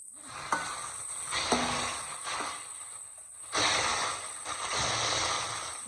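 Chopped ivy gourd fries in hot oil with a steady, soft sizzle and occasional stirring scrapes, fairly quiet and close with no talking.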